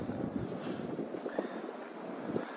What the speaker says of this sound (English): Ooh, this wind sucks.